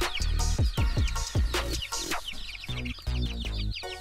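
Chickens and young chicks penned in a small coop, separated by size during hot weather, cluck and peep close by in a busy, continuous chorus of overlapping calls.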